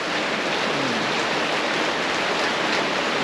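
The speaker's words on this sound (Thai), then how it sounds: "นี้ครับฝนก็ได้ตกแล้วนะฮะ" Heavy rain pours down steadily, a dense, even hiss of drops drumming on surfaces with no pauses.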